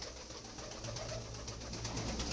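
A continuous low cooing of pigeons fills a pigeon house, soft and steady over a quiet background, with no voices.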